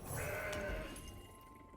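A goat card from the game Legends of Runeterra lets out a single short bleat, brief and fairly close, fading quickly.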